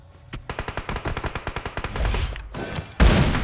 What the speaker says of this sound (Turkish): son mermiyi yanlışlıkla yere sıktım